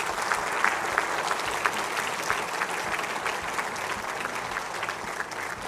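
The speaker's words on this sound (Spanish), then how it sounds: "Démosle un aplauso por su perseverancia." A church congregation applauds steadily during a Sunday anniversary service, a dense, even wash of many hands clapping that holds at a constant level throughout.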